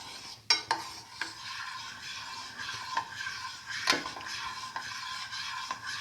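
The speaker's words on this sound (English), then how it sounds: "Mix until the sugar dissolves." Sugar being stirred into watermelon milk, a steady scraping swirl in a bowl punctuated by a few sharper utensil knocks against the side, close and moderately quiet with no voices.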